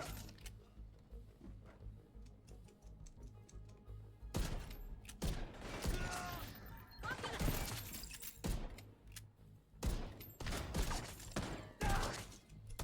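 Gunshots from an 1886 lever-action rifle in The Division 2, several loud heavy blasts spaced a second or two apart over a quieter game background, with the later half busier and more intense.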